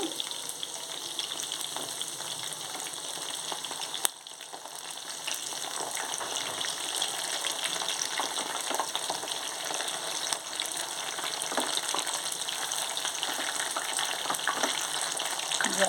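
Fish pieces frying in oil over a medium flame make a continuous dense sizzle with faint crackles, steady and close, with one brief dip partway through and no talking.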